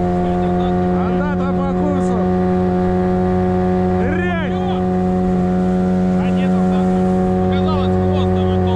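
A boat's outboard motor idles steadily on a river fishing trip, a constant low tonal drone with humming harmonics, close and loud throughout, while people talk over it in short exchanges.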